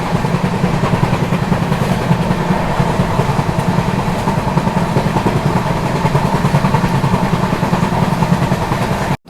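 Ranakpur Express running from Bikaner to Mumbai on a single electrified line, a loud, steady rumble and rattle of the carriages continuing unbroken from start to finish.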